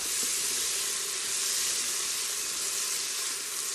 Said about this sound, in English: And saute my onion.